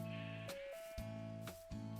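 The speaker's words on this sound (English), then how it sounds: "here is the improvised sheep farm" Sheep bleat repeatedly on an improvised sheep farm in a video game, several overlapping harmonic calls in quick succession, loud and close with no talking.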